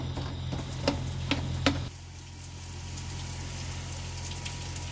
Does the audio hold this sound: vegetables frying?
yes